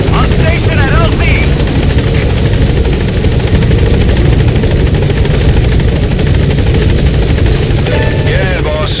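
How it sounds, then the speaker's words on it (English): A support helicopter in Metal Gear Solid V roars loudly and close, its rotor thumping steadily throughout, with brief radio-like voice chatter breaking in near the start and end. "Support helicopter has arrived."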